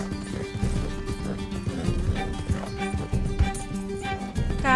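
A horse gallops in Red Dead Redemption 2 with a steady run of hoofbeats under sustained music and game sound, moderately loud throughout.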